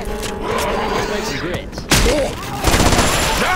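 Gunshots ring out in a team-based shooter game, sharp cracks and a heavy burst of fire landing close over a steady game backdrop, with players talking during the shooting.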